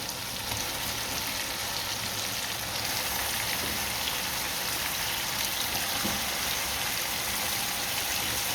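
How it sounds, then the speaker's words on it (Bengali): Chicken pieces going into a hot pot for a twenty-serving chicken biryani, sizzling loudly in a steady, dense hiss from start to finish, with no talking. "এখন আমি এখানে মাংস দিয়ে দেবো।"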